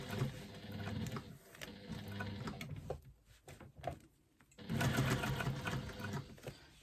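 A sewing machine running basting stitches through foam onto exterior panels, two steady bursts of rapid mechanical whirring separated by a quiet pause, close and moderately loud.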